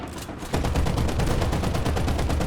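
Sustained machine gun fire from a War Thunder battle with a Chi-Ha tank and Ki-21-Ia bomber, a near, loud, rapid continuous burst starting after a brief quieter moment and running to the end without talk.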